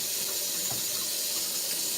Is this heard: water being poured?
yes